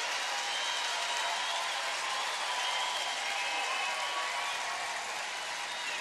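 A hometown curling crowd in North Bay applauds a double takeout at a women's world championship, a steady, dense wash of clapping that holds evenly for several seconds.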